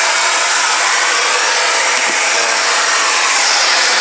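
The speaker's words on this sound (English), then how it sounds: "So now what's happening is I have a little handheld vacuum, and when I put it on, it's really powerful." A Shark Rocket MV481 handheld vacuum cleaner runs close by with a steady, loud, unbroken motor whine and airflow rush throughout.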